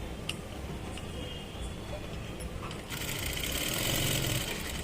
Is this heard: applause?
no